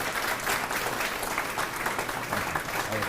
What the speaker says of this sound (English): Please give him a well round of applause here